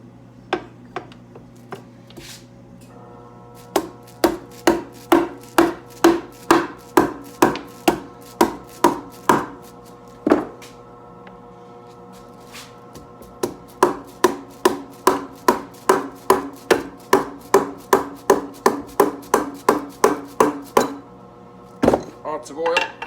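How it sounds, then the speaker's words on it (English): Rubber mallet blows strike the engine case of a 1985 Harley FXRS Evo during case splitting, landing in two long runs of rapid, evenly spaced knocks with a brief pause between them, close and fairly loud. "Use a rubber mallet."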